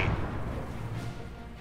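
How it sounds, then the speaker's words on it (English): Mortar fire in the real-time strategy game Company of Heroes 2, a single deep muffled thump with a rumbling tail, moderately loud and alone. "Mortar tearing into the Pioneer Truppen, doing quite a bit of damage there"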